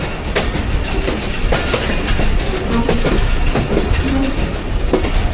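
A passenger train rumbles along the rails between Lala Musa and Sargodha, a loud continuous roar with rhythmic clicking of wheels over rail joints.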